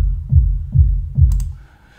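A kick drum in Logic Pro X, EQ'd with the high end removed to sound thuddy, hits three times in an even rhythm, each a deep, muffled low thump played alone.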